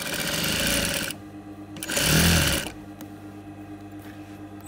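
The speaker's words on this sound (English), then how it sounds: "just keep sewing and sewing and sewing over the folded hair" Close by, a single-head sewing machine whirs as it stitches over folded hair to make hair extension wefts, running in two loud bursts with a brief stop between, then fading to a lower mechanical hum.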